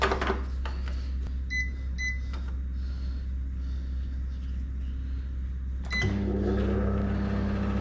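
A microwave oven hums steadily with a low drone, a few beeps and clicks near the start, then a louder, deeper hum kicks in as it starts running.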